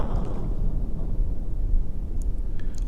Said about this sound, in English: Let's do an explosion.